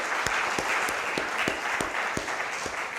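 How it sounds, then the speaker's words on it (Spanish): A church congregation gives sustained applause, a steady wash of many hands clapping, with a few sharp, rhythmic, louder claps standing out nearby. "Denle un aplauso al Señor."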